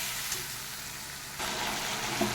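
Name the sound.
spice masala being fried and stirred for potato curry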